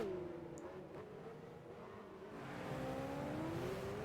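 A Mercedes CLK race car in Gran Turismo 5 sweeps past with a loud, steady engine whine whose pitch bends down and then climbs again as it accelerates away.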